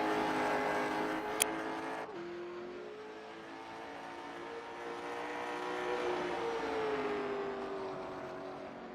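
The number 19 race car, a Steel Graphics painted machine, laps a short track with a steady, droning engine note that rises and falls as it runs through the turns, heard alone.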